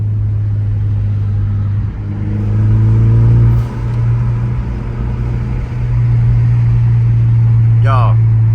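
Turbocharged Ford Mustang EcoBoost driving with the windows down, a steady low engine drone and road rumble with a swell in revs midway, loud and close, with brief wind noise and some talking.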